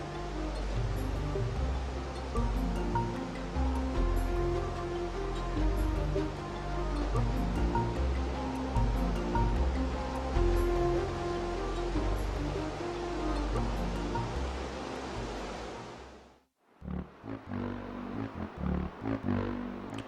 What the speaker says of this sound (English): only ice floes float along the river here and there.